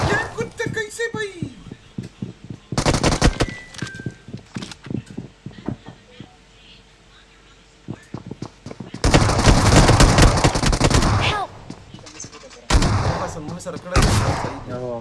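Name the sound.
gunfire in PUBG Mobile video game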